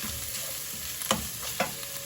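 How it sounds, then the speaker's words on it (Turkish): Steady sizzle of minced meat and onions frying in a pan, with a couple of sharp scraping stirs cutting through near the middle. "Kıyma ile soğanı kavurmaya başladım."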